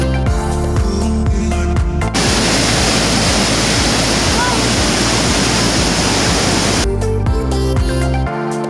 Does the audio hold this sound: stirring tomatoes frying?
no